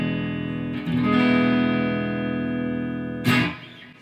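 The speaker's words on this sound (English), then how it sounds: "we're gonna have the E seventh." An E seventh open chord on electric guitar with the second finger on the fifth string, strummed once and left ringing, then struck again near the end with a brighter attack before fading.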